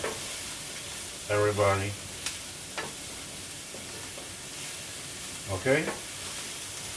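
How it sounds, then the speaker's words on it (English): Onions sizzle softly in a pan with a constant frying hiss, alongside a couple of stirring clicks, as someone talks briefly over it. "Now it's time for me to add in the onions in. I'm going to give this a nice stir"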